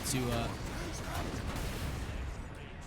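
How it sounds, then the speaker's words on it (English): Warhammer 40,000 Space Marine combat, with a grenade launcher thumping out blasts among rumbling explosions and gunfire, loud and chaotic, while a voice talks briefly at the start. "to try to hit him with the grenade launcher"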